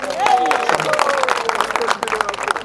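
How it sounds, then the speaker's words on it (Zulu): An audience applauding, steady dense clapping at moderate distance that continues throughout, with a voice briefly audible over it. "ngicela nibashele ihlombe"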